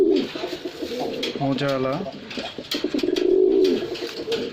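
A pair of pigeons, a male and a female, coo nearby in soft, throaty rolling calls, with a person talking over them.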